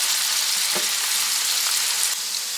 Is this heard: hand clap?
no